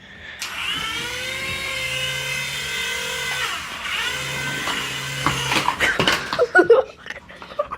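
A mini remote-control toy helicopter flies close by with a high, whining motor hum that holds steady, dips and rises, then breaks into clattering knocks near the end.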